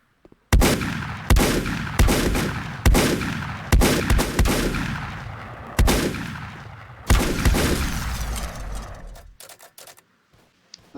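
Shotgun blasts from the video game Volcanoids, about seven loud, sharp booms spaced roughly a second apart, each with a decaying tail and a brief reload rattle, ending with quieter clicks.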